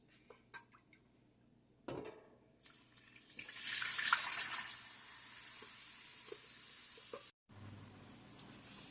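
Milk poured into a pot of cooking butter and flour for Guyanese halwa (parsad), a loud hissing sizzle that swells, holds for several seconds, then cuts off, with small clinks before it.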